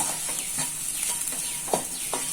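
A spoon stirs grated coconut into a sizzling bitter gourd fry, giving repeated scraping strokes in an uneven rhythm over a constant soft hiss.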